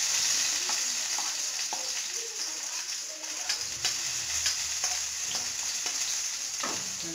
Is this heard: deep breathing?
no